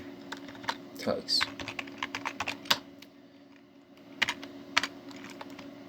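Someone types C# code on a computer keyboard, producing close, crisp key clicks in uneven bursts with short pauses, including a quicker flurry early on and a few isolated louder taps near the end.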